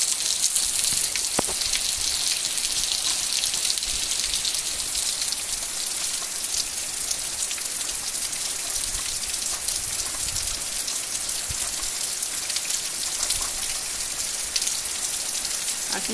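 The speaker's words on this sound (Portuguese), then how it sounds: "Uma chuvada dessa." Steady, heavy rain pours down in a dense, unbroken hiss that stays loud and even throughout.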